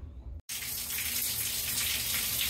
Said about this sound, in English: So right now it's on the setting for the waterfall shower head